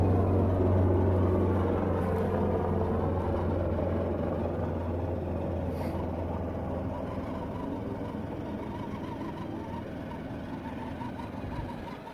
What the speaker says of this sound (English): Damn helicopter.